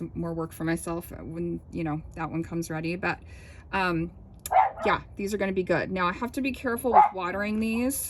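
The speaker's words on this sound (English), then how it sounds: "Sorry about my dog barking." A dog barks and yips repeatedly in short bursts close by, mixed in with a person talking over the barking.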